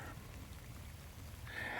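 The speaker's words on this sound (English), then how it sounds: "it's starting to rain." Rain falls steadily outdoors as a continuous broadband hiss, faint and even throughout, with no voices.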